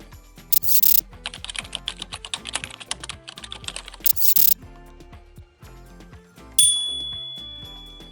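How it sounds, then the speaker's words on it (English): Computer keyboard keys clatter in quick irregular bursts while a short search term is typed into a trading platform's indicator search bar, close and clear, followed by a soft chime. "we need to search for the 3 EMA indicator in the search bar of the indicator section"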